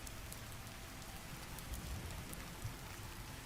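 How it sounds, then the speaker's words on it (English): Steady, soft rain ambience hisses evenly throughout, with a faint low rumble underneath and no voices. "let the rain and waves carry you into the story"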